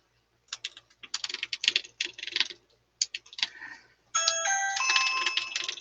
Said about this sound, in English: somebody's ringing my doorbell.